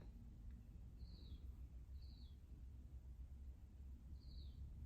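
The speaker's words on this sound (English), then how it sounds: "there's this bird that's calling out right now in the background too" A bird calling outdoors in the background, three short high chirps repeating at roughly one-second intervals, faint and distant over a low steady ambient hum.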